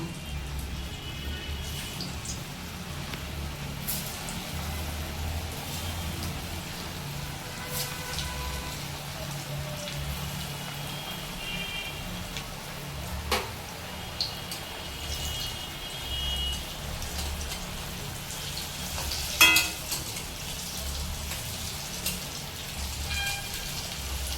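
Flattened banana kofta frying in hot oil: a steady, close crackling sizzle with scattered sharper pops, and no voices.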